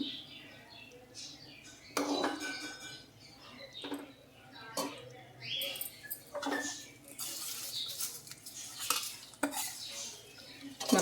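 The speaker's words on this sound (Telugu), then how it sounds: "ఇప్పుడు పోపులు కూడా యాడ్ చేద్దాము" Tempering being mixed into citron tamarind rice (dabbakaya pulihora), with a spoon stirring and scraping in a vessel and intermittent metallic clinks. It is quiet and close, with faint sizzling in the background.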